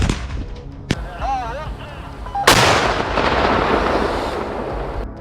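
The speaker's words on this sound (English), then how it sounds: "the APCs simultaneously run over landmines and take a huge hit from the resulting explosion" Loud blast as armored personnel carriers run over landmines on a Ukrainian frontline, a sharp burst opening into a long rumbling roar after an earlier crack and a faint whistle-like tone.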